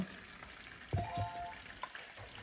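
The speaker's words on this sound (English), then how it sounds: "you could add your serranos and your onions in here to start sauteing that" Serrano peppers and onions sauté in a pan for taco night with a faint, soft sizzle and a couple of light stirring clinks, heard close and alone.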